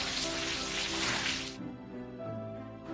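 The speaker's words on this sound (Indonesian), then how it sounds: "Tapi seru lah hujan-hujanan." Rain falls steadily with a broad hiss for a moment, then cuts off, leaving quieter patter and a low hum before the hiss returns.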